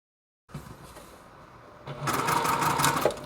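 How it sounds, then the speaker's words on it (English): A sewing machine chain-pieces rows of a quilt block together, starting after a brief silence with a steady whir that grows louder and busier for the last second or so. "I'm just going to sew this row over to this row"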